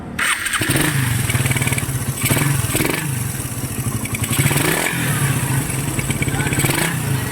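A motorcycle engine cranks and catches, then runs with a loud, uneven idle and a few blips of revving, recorded up close.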